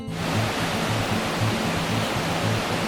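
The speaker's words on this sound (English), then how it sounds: "This is our first real glimpse of the creek, and I'm pretty sure this is called Boulder Creek" Boulder Creek rushing along the Lake of the Angels trail, a steady, full broadband roar of flowing water with a faint low pulsing underneath, nearby and continuous with no voices.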